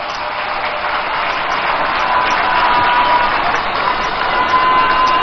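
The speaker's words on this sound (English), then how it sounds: "let's give all of them a round of applause" Large crowd applauding at an outdoor NDC 2024 manifesto launch rally in Winneba, a dense, steady roar of clapping and cheering that stays loud and continuous throughout, with a faint whistle-like tone running beneath.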